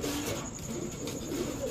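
Racer pigeons coo close by in a short, soft, throaty murmur over a faint background hum.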